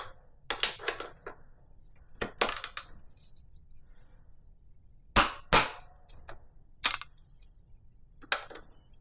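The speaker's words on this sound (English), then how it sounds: "Until we hear that magic click." Several sharp metallic clicks and clacks from a torque wrench tightening a T47 bicycle bottom bracket arrive in irregular bursts, close and crisp, with quiet pauses between them.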